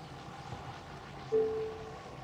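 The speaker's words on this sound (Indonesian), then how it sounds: "Nah, begitu kita nyalain mesin" A Mazda CX-60 with a 3.3-litre engine starts up with a sudden close surge that settles into a steady low hum, fairly quiet overall.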